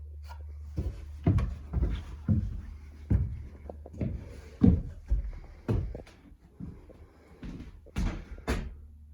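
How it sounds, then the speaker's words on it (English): A wooden cupboard-style door is opened and closed repeatedly in a quiet room, a series of distinct knocks, clicks and thuds spaced about half a second to a second apart. "The door."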